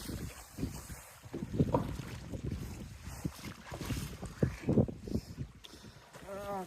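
A fishing trawler rides a fairly calm sea at midday, with wind buffeting the microphone and the wash of water around the hull. Voices talk intermittently over the moderate, uneven motion noise.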